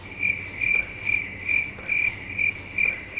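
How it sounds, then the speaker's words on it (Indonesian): Crickets chirping in steady pulsed bursts, each trill roughly a third of a second long and repeating evenly over a constant background hiss, fairly loud with no voices. "Ini denger nggak? Krik, jangkrik ya?"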